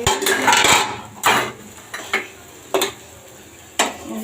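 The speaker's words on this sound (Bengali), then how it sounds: "এখন ডাকনা দিয়ে দিব সিদ্ধ হওয়ার জন্য" A metal lid is set onto a pan of frying okra, with several sharp clanks and knocks of metal on metal spaced irregularly, close and fairly loud.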